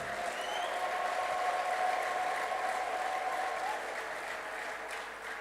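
A congregation at a church service claps together in a sustained, dense round of applause that swells and then eases slightly toward the end.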